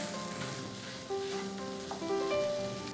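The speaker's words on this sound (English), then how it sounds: "We'll mix it well and cook it for 1 minute." A masala mixture of chilli powder, garam masala and salt sizzles and fries in a pan, a steady close hiss with a brief stirring scrape, and no voices.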